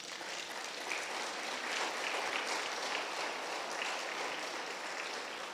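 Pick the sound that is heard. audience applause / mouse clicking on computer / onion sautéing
audience applause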